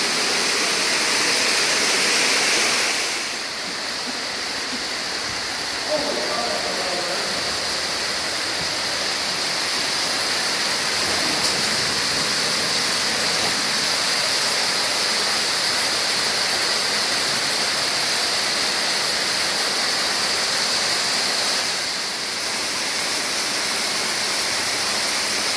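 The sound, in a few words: waterfall in a cave pit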